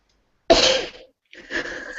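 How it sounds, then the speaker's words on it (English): A person sneezes once, loud and close, followed by a softer breathy exhale or sniff after a short pause. "Hold on, I need to sneeze."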